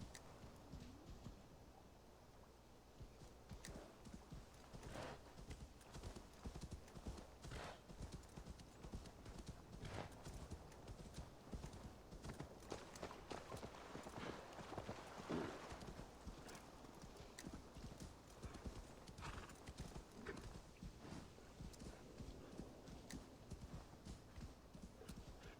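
Horse hooves clip-clop steadily and continuously in Assassin's Creed Valhalla, a brisk galloping rhythm running throughout at a consistent moderate level, with occasional faint whinnies and ambient game sound beneath.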